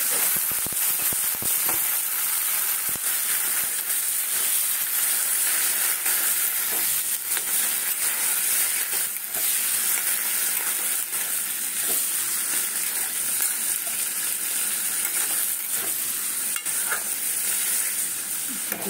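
Tadka poured into mixed five-lentil dal sizzles in a pan with an even, hissing crackle that holds steady, plus a few sharp stirring clicks near the start, close up and without talk.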